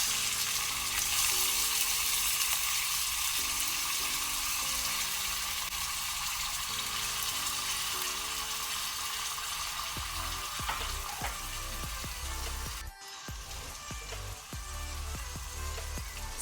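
Two large finely chopped onions fry over a low flame in a pan, giving a steady close sizzle throughout, with occasional stirring clicks and a brief scrape near the end.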